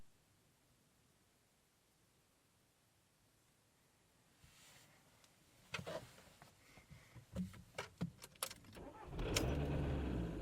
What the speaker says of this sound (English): Confirm and start the vehicle.